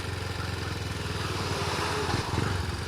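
A Rusi Gamma 200 motorcycle engine drones steadily and close while riding, holding an even, buzzing pulse with slight rises in revs and no speech.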